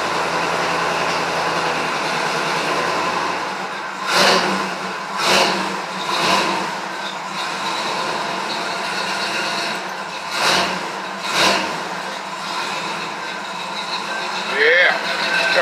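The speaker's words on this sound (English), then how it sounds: "All right, to pull this choke to keep her running." A 1955 Chevy gasser engine runs just after a cold start with the choke pulled. It holds a rough, steady idle, broken by several sharp throttle blips, while voices talk over it.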